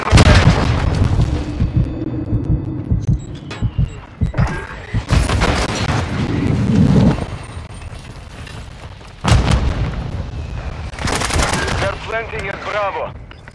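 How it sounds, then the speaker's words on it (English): Mortar strike explosions in the Call of Duty: Modern Warfare video game, with repeated loud booming blasts and bursts of gunfire crashing in waves, separated by brief rumbling lulls. "Mortar strike on the way."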